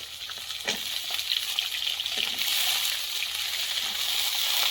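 Washed vegetables for a puin greens dish lightly frying with chopped onion in a pan, a loud continuous close sizzle with wet crackling and occasional stirring.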